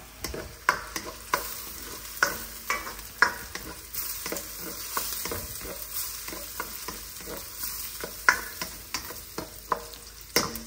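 Spoon stirring Alaskan king crab chili sauce in a hot pan, steady sizzling and frying overlaid with repeated sharp scrapes and clicks of the utensil against the pan at an irregular rhythm, close up.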